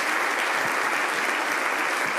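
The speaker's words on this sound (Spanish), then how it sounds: "Quiero pedir un fuerte aplauso para todos ellos" A concert audience applauds at a tenth-anniversary show in Zaragoza, a dense, steady wash of many hands clapping that stays loud and even throughout.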